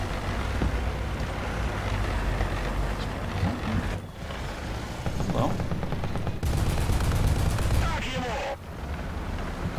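Default guns on a BMP infantry vehicle firing in War Thunder: bursts of rapid autocannon fire break out over a constant rumble and wind-like noise, loud and repeated across the stretch.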